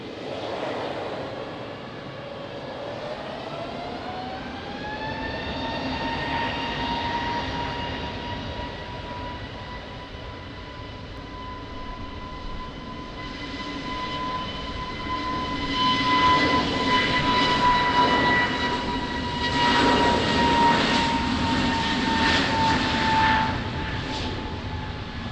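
Airliner Portugal 552 November takes off from runway 20 at Lisbon Airport in rain and wind, its engines spooling up into a rising whine and then a long, loud, sustained roar.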